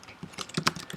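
Quick bursts of computer keyboard typing as HTML code is entered. The clicks come as a close, irregular patter of light keystrokes with no voices.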